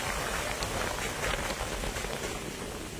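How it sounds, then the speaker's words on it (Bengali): A Kalbaishakhi storm in the Dooars brings wind and rain together, giving a dense, hissing rush of rain with gusty swells that stays loud and continuous throughout, with no voices. "বাপরে কি ঝড় হচ্ছে একদম। এটা কালবৈশাখী ঝড়"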